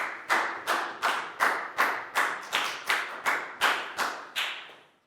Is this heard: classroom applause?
yes